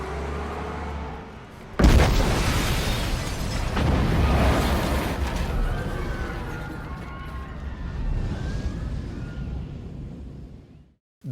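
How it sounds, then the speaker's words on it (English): Digitally recreated film explosion depicting the 1980 Bologna railway station bombing: a sudden loud blast followed by a long, dense roar of rumbling debris and noise that fades slowly over several seconds. "they digitally recreate the explosion that killed 80 people and injured 200 in 1980"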